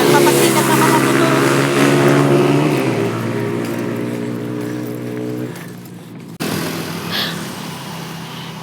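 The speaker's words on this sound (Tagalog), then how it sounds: "Nagpapasikat na mga motor." Motorcycles rev on a road near a bridge, a loud, close, throaty engine drone that rises and falls in pitch for most of the stretch before easing off and picking up again.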